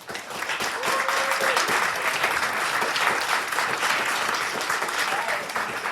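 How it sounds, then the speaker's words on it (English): Audience applause at a student vice presidential candidate debate, a dense, continuous wash of clapping from a large crowd that holds steady for several seconds. "Let's give them a round of applause."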